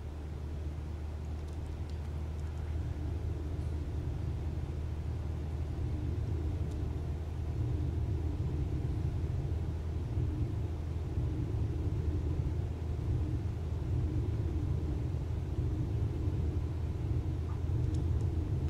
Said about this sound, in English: Let's give full throttle and take this plane up in the air.